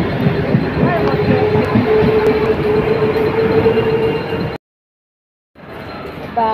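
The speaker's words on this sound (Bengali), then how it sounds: "এই দেখো এই ট্রেনটা থেকে নামলাম" Train noise from a railway car fills the scene: a steady broad rumble with a faint high whine and rhythmic rattling, cut by a brief total gap, then resuming.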